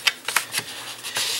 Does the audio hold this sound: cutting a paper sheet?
yes